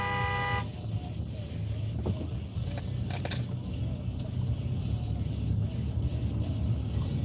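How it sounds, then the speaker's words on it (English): A car horn gives a short toot in traffic in Venice, over a steady rumble of nearby engines and road noise, with some talking in the background. "The guy's like honking at me and there's nowhere to go."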